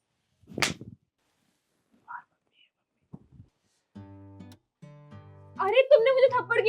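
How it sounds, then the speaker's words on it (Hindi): A single sharp slap across the face lands near the start during a heated family quarrel, a brief loud crack followed by quiet breaths and then tense music. "अरे तुमने मुझे थप्पड़ क्यों मारा?"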